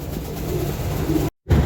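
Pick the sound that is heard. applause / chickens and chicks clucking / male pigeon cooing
male pigeon cooing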